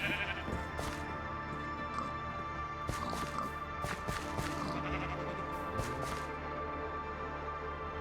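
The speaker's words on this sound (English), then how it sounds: "they got some cows and pigs in here. And sheep." Sheep bleat repeatedly over a soft ambient bed in a zombie survival video game, with scattered quiet footstep-like taps and occasional faint speech.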